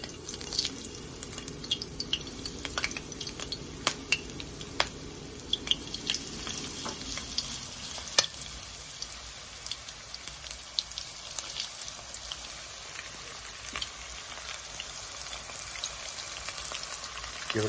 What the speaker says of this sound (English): I'm going to start adding it slowly, and it will start frying up.